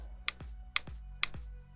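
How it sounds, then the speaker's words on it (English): An Xbox controller's left stick is moved in three separate motions, each giving a sharp, close snap or click followed by a low thump, with short pauses between them. "That's the sound of me using my left stick on my Xbox controller."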